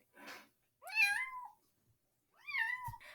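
A small kitten meows close by in a quiet room, three short high cries, the middle and last ones clear and rising, with silence between.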